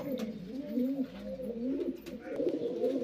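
Pigeons in a loft, including a newly formed pair, coo softly and continuously at close range, with low rolling calls overlapping and a few faint rustles in the background.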